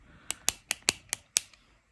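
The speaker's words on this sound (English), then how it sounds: "I think you have to click it a few times for the product to start coming out" Six sharp clicks from a Lazonail nail treatment pen being pressed to push out product, loud and close, in an uneven quick rhythm with brief pauses and no talking.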